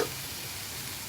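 Filet mignon searing in a Saladmaster electric skillet, a steady close hiss of frying that holds evenly throughout without any speech.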